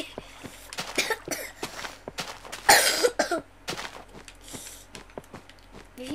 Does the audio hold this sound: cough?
yes